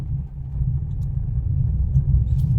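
A car on a driving-practice outing rolls steadily with a continuous low engine and road rumble, close and even throughout with no talk.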